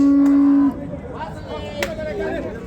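Cows moo at a busy livestock market in Pastdargom, Samarkand, with one loud sustained moo at the start followed by fainter calls and crowd murmur underneath.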